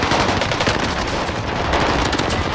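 Loud, continuous automatic gunfire in Call of Duty Warzone on Fortune's Keep, with rapid overlapping bursts packed tightly together from start to finish.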